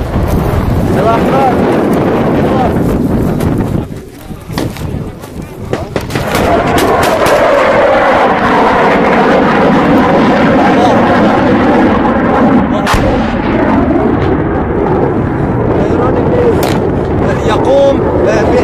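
Heavy blasts and booming impacts from cluster bombs dropped on rebel lines near Homs, loud and repeated amid strong wind buffeting the microphone, with people talking and shouting over the explosions.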